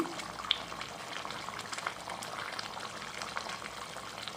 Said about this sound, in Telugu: పులుసు అనేది మరిగిపోయి పైకి ఆయిల్ అనేది పైకి వచ్చేసింది